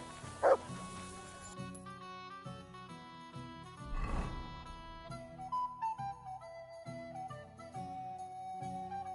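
A dog barks and yips once near the start of a Kingdom Come: Deliverance II scene, a short loud yap over steady music and ambient game sound, with a later burst of noise and someone talking.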